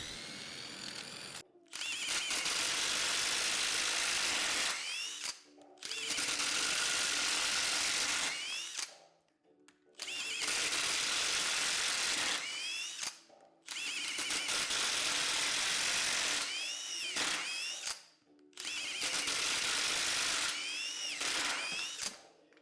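A cordless impact driver fitted with a chuck runs as a drill in five long bursts of whirring and hammering, each with rising and falling pitch, separated by brief pauses, close and loud with no talk.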